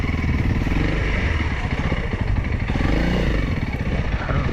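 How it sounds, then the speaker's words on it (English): A Honda CRF300L dual sport motorcycle being ridden, engine droning steadily and close with a rough, clattering low rumble and wind noise, no clear revving changes. "it's a delightful bike to ride"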